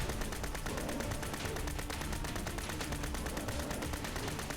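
M3 Grease Gun submachine gun fire in Fallout 4, a loud, unbroken stream of rapid automatic shots with dense, steady rhythm and no pauses or talking.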